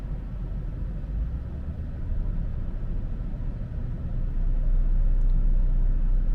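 A Jaguar S-Type R engine, the supercharged V8 sedan, held on the handbrake while revved to around 1600 RPM, giving a steady low rumble that swells slightly louder toward the end, close and continuous with no talk.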